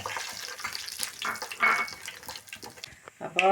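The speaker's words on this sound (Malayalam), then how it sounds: "കടുക് നന്നായി പൊട്ടട്ടെ" Mustard seeds pop and sizzle in hot oil in a pan, a close crackling spatter with irregular bursts and a few sharp pops, heard alone without talk.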